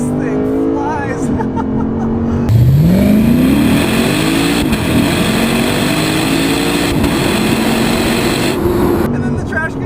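A 2020 Lexus RC F Track Edition accelerates hard from inside the cabin, its engine rising in pitch through the gears with short dips at each shift. The engine roar is loud, close and continuous.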